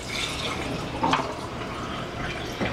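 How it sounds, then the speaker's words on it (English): Cold running water pours from a tap into a small metal moka pot, a steady close splashing with a brief brighter gurgle midway. "you want to fill this one up with cold water"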